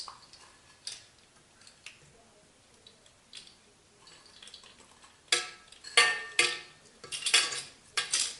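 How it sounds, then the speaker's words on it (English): A small spoon scoops sugar out of a pretty container while making a gingerbread house, giving light clinks and scrapes that are soft at first, then louder, sharper bursts in the second half. "I just use one of these little spoons to get the sugar out."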